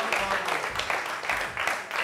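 Scattered applause from a small television studio audience, uneven claps rising and falling, with voices mixed in.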